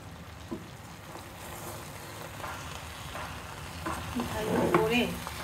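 Raw young jackfruit curry with spices being sautéed in a pan, a steady close sizzle with scraping stir strokes that grows louder and busier toward the end.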